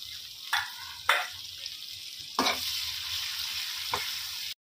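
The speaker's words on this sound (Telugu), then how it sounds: "ఇలా కందనకాయలన్నీ ఇలా వేగి ఆయిల్ తేరిన తర్వాత ఇలా ఆనియన్స్ వేసుకోవాలండి" Snake gourd (kandana kaya) and onions fry in hot oil in a pan, giving a steady, close sizzle. A few sharp stirring clatters break through, and no one speaks.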